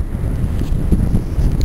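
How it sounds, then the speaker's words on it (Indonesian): Strong wind buffets the microphone on the summit of the Gunung Sorik Marapi volcano beside its crater, a steady low rumble with gusty swells throughout and no talk. "jalannya angin di sini sangat kencang sekali"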